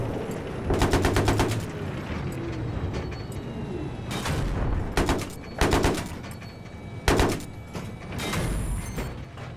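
Automatic gunfire in the shooter Battlefield 3 multiplayer comes in several rapid bursts, loud and close, over a constant rumbling battle background.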